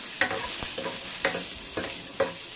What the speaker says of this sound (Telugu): ఈ పచ్చిమిరపకాయల్ని కూడా ఫ్రై అవనివ్వాలి।